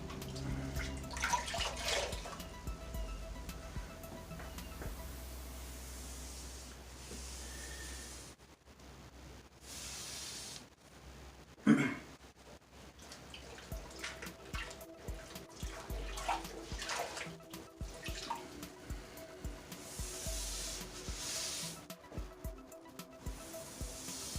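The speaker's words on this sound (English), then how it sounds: "Now I've got my sponge here. And you want to get your sponge wet." Water running and splashing over a sponge as it is wetted for wiping grout while refinishing old cabinets, a steady wash of tap or tub water with a brief louder splash midway, no talk.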